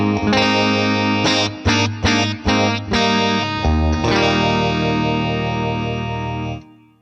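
Electric guitar played through the phaser effect of the Blackstar St James plugin with the width control turned up, heard alone: a few strummed chords with sweeping, swirling tone, ending in a long sustained ringing chord that cuts off.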